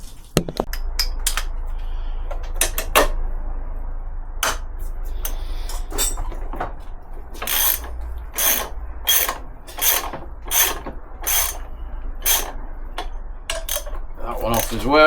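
A ratchet loosening bolts during engine removal from a VW Polo 6N2, with bursts of rapid clicking strokes, several quick runs in a row, close and loud in a workshop, separated by brief pauses and clanks.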